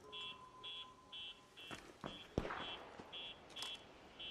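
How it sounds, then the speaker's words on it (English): Security camera alarm in a video game, an evenly spaced series of short, high electronic beeps repeating throughout at moderate volume, with soft footsteps and a few knocks and thumps underneath. "This camera was seeing me and it makes an alarm, which then tells people that you're here."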